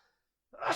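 A single short sneeze bursts out after a brief silence, close and fairly loud.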